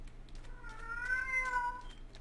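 A house cat meows in a drawn-out, wavering cry that rises and falls over about a second, fairly quiet and close, with low background hum behind it and no talking.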